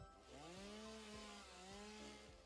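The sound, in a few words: chainsaw cutting in the video game Satisfactory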